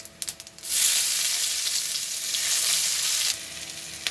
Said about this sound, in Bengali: পেঁয়াজগুলোকে হালকা লাল করে ভেজে নেব।